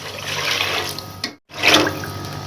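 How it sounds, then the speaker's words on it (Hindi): Water from a tap runs in a steady, loud stream into a pot of soaked sella parboiled rice for dal chawal. It breaks off for a moment and then pours again. "तो इसके अंदर हम पानी डालेंगे"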